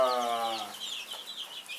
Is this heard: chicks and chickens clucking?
yes